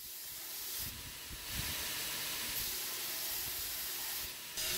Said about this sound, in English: we're gonna do our finish grind on this guy